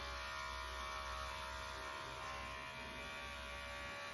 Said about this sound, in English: shave back and forth like that.